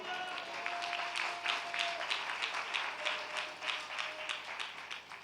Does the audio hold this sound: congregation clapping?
yes